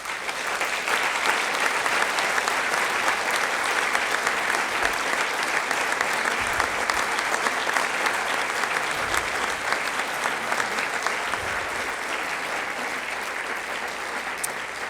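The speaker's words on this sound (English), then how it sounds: "Please give these seniors a huge round of applause." A large audience at a school honors convocation gives a long, sustained round of applause for the seniors on stage, dense and even clapping that never lets up.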